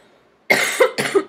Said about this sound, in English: I'm recovering from a little cold, so I'm going to be coughing here and there.